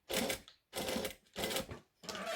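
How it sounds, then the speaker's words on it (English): A sewing machine stitches a clear pouch in three loud, steady bursts, each running about half a second, with short pauses between them. A fourth burst starts right at the end. "this is not about speed sewing because every stitch is seen"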